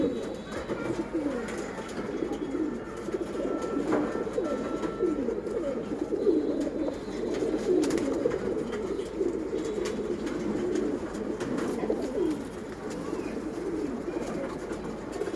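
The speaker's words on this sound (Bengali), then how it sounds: "এটা হলো একটা বেজি কবুতর" Silver pigeons coo in a loft, a dense continuous chorus of low warbling calls layered over one another for the whole stretch, fairly close, with faint clicks and rustles.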